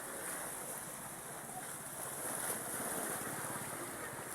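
Big sea waves roll in at Balabagan as a steady, broad, close wash of surf, mixed with wind buffeting the microphone, with no clear talk over it.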